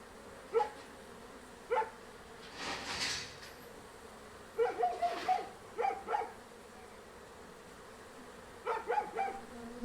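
Honey bees in an open beehive buzz faintly in short, uneven bursts, with quiet stretches between them and no talking.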